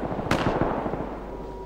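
A video game grenade goes off in one sharp, loud burst that trails into crackling rumble, with no voices over it.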